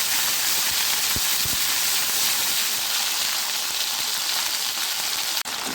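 Ground onion paste fries in a pan for a Bengali katla fish kalia, giving a steady, dense sizzle throughout with a single sharp click near the end, no voices.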